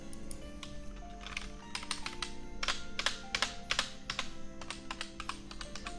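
Close, continuous typing on a computer keyboard in a quiet room: uneven bursts of crisp key clicks and taps, thickening to dense clusters midway, with a faint steady background hum and no speech.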